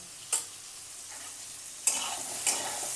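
Soybean chunks fry in a pan, a soft continuous sizzle punctuated by three sharp spatula clacks as the pieces are stirred.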